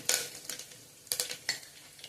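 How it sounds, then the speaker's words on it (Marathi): Bay leaves, curry leaves, cloves and pepper sauté in a pan over medium flame, with a few bursts of spoon scraping and stirring clatter separated by quieter pauses, close and fairly soft. "हे सगळं छान परतून घ्यायचंय आणि त्याचा कच्चेपणा गेला पाहिजे"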